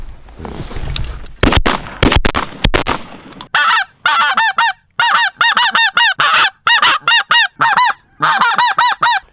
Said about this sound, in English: There's geese absolutely flying around everywhere.